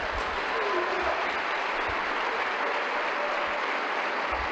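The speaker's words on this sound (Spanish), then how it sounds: "Dele un aplauso al Señor." Sustained applause from a church congregation, steady broadband clapping filling the room throughout with no gaps, a few low thumps underneath.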